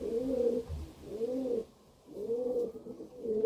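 Pigeons coo in soft, low, repeated phrases close by, broken by a brief pause, with no talking.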